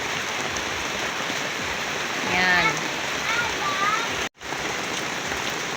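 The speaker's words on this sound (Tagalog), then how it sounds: "Maputi yung ulan doon sa bukid." Steady night rain pouring down over farm fields, a continuous broad hiss of falling water, with a brief voice partway through and a short dropout near the end.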